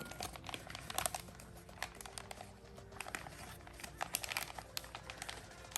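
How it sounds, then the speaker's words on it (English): A plastic piping bag filled with clear slime is handled and crinkled up close, with quiet, steady crackling and rustling that comes in small irregular bursts throughout. "you want to bring up the sides of your piping bag"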